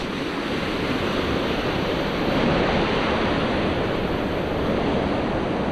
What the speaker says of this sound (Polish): Przejście przez rzekę. Haha, tyle wody, że aż się wylewa.